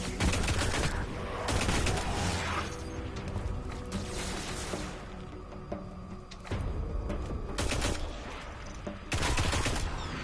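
A weapon hip-fired in a video game, loud dense bursts of rapid shots recurring throughout with mechanical clatter and brief lulls between volleys.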